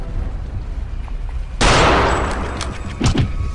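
Rifle gunfire in the video game Return to Castle Wolfenstein: a sudden loud, sharp blast cuts through low background rumble and is followed by a few more quick shots.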